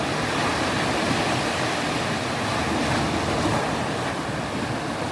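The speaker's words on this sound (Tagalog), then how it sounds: "Kitang kita yung tubig kung paano siya humahampas sa gilid ng bato." Constant roaring wash of sea water surging against the rocks of a coastal rock pool in Burgos, Pangasinan, loud and unbroken, with a windy rush layered through it.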